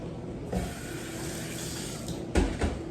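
Liquid is poured into a cup, a soft, steady splashing trickle heard close and quiet, with a couple of small clinks or bumps along the way.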